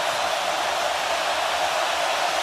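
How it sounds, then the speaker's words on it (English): A huge stadium crowd roars at an Alabama versus Georgia college football game, a dense, loud, unbroken wash of cheering noise filling the space, with no distinct voices standing out. "It's just getting louder by the second here for Beck"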